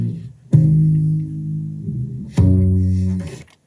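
Upright bass, cleaned of finger noise, plays two sustained low plucked notes, each with a sharp attack and a long smooth decay, the second entering near the end.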